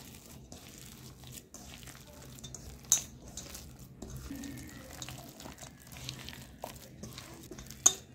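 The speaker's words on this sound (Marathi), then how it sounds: "आता हे आपण एकत्र करून घेऊ।" Ground spice paste and ground dal for vada being mixed together by hand in a kitchen, with soft squelching, scraping and a few sharp clinks of utensils against a vessel, moderately quiet and close.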